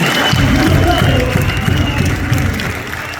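Church congregation clapping together during worship, a dense, loud, sustained patter of many hands close by, with voices mixed into the crowd.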